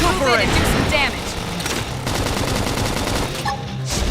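Gunfire in the video game Xenoblade X, rapid bursts of automatic shots and clattering combat effects running continuously and loudly, with a character's voice calling out over the action.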